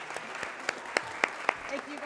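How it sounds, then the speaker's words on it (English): Sparse applause at a high school senior awards ceremony comes as a handful of distinct, spaced claps, faint and fairly distant, with a little background chatter. "Can we give them a net round of applause,"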